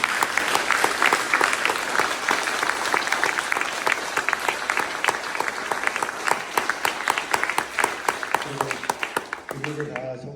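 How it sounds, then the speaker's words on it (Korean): Sustained applause from a crowd at a campaign team's closing ceremony, dense clapping for about nine seconds before it thins into scattered claps and a voice near the end. "이 대목에서 박수를 한번 치죠."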